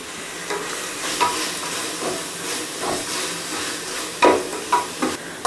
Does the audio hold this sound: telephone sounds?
no